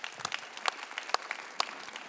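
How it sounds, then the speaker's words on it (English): A small audience claps for demo presenters, a short burst of scattered, sharp hand claps with a few louder ones standing out. "big round of applause for Jody and Vladdy for the demos"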